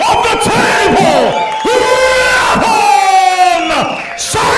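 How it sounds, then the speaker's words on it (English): A crowd at the King of the Table armwrestling event cheers and roars loudly for the champion, with a drawn-out shouted voice riding on top of the noise throughout. "round of applause for the king of the table"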